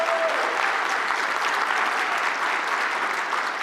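An audience at a medical staff meeting gives a big round of applause for two award recipients: dense, sustained clapping from many hands, loud and even throughout.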